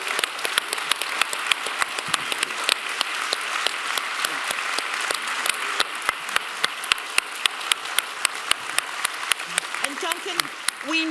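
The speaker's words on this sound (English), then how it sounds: "can we just do one more round of applause for Duncan and all his hard work over the years?" Audience applause at a leadership summit's closing session, a steady dense wash of clapping that holds throughout at a fairly loud level, with a few sharper individual claps standing out.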